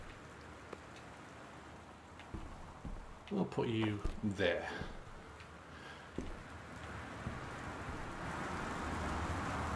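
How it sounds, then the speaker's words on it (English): Steady rain in the video game Gone Home patters throughout, with a voice speaking briefly over it in the middle. "listen to that lovely, lovely rain"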